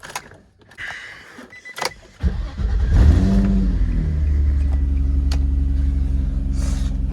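Light rustling and clicks come first, then a car engine in a garage cranks and catches with a loud roar around the third second, settling into a steady, rumbling idle that stays close and heavy until the end.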